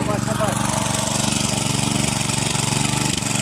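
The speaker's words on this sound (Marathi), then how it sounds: "इथे 2 ट्रॅक्टर आणलेले आहे आपण नांगरायला" A tractor engine runs steadily nearby in flooded rice fields ready for ploughing, a continuous loud mechanical drone with broadband noise and no clear talk over it.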